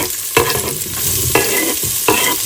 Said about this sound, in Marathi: भाजी फोडणीला टाकली नाहीये, जस्ट फोडणी झाली आहे. तर त्यात कांदा टोमॅटो टाकतीये